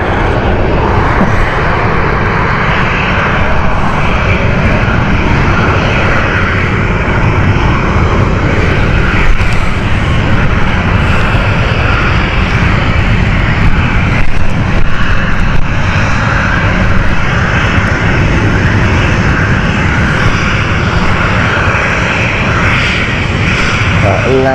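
A passenger airplane at Stansted Airport sits on the runway about to take off, its engines a loud, steady roar that holds throughout, with a voice talking over it.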